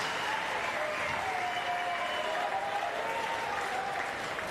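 An arena crowd at a Paralympic standing men's singles table tennis gold medal match claps in sustained, dense applause that holds steady for several seconds, with a commentator talking over it.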